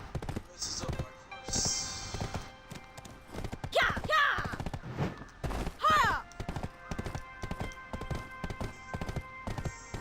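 Horse hooves clip-clopping while riding in the video game Black Desert, a rapid rhythmic patter of steps with a couple of snorts or whinnies, and someone talking over parts of it.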